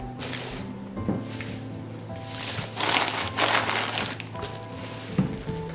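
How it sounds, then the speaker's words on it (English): A plastic bag crinkles and rustles close up as a soap bottle and its sprayer are slipped inside, with a few soft knocks while the order is packed for shipping. "And then I put the sprayer in the bag with the bottle."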